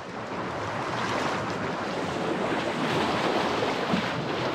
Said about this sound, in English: really strong wind was coming through